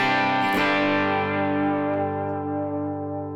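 Electric guitar played through a Yamaha THR30II on the Modern Clean EL84-style preset with faint tape echo: a single strummed chord rings out loud and bright, sustaining and slowly decaying.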